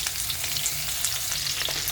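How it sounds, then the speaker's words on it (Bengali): Chunks of green banana, sweet potato, eggplant and drumstick fry in hot oil with five-spice seeds in a pan, giving a loud, continuous sizzle with crackly spatters throughout. "এবার সবজিটাকে একটু ভাজা করে নেব"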